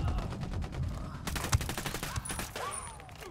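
Rapid bursts of gunfire fill a firefight in the video game Ghost Recon Wildlands, with repeated sharp cracks and a dense volley in the middle, close and loud under a faint voice.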